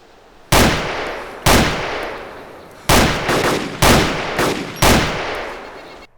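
Five heavy gunshots in the survival game DayZ ring out loud and close at irregular intervals, each with a sharp crack and a long echoing tail.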